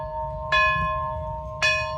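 A bell sound effect strikes twice about a second apart, each ring clear and resonant with a bright metallic tone that slowly decays over a low background hum.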